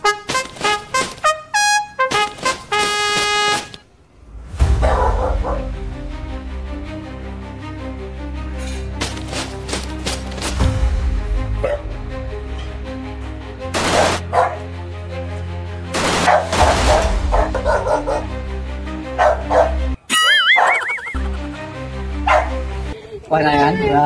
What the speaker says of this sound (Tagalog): May aso na, oh.